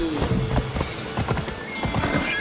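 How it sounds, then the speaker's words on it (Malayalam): A horse gallops in the video game Assassin's Creed Odyssey, with quick rhythmic hoof clip-clops and a brief whinny, moderately loud and close, with no speech. "അയ്യോ ഓടും കുതിര, ചാടും കുതിര, വെള്ളം കണ്ടാ നിൽക്കും കുതിര."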